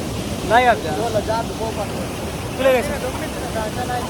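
Water rushes at Hukratte waterfall as a steady broadband roar filling the background, while people talk over it and their voices rise above the constant flow.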